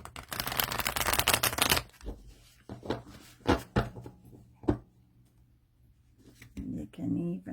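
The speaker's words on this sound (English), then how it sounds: "Shuffling them this way is fine, overhand." Large, slightly slippery tarot cards being overhand shuffled, a loud flurry of riffling slaps followed by scattered soft taps and clicks, close by.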